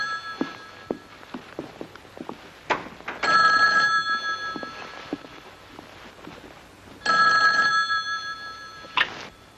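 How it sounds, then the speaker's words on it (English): An old telephone bell rings out in two loud bursts, a few seconds apart, in a quiet room with soft knocks and footsteps between the rings. "The phone? This hour in the morning?"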